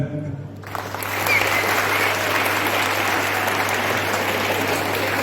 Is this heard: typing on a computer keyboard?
no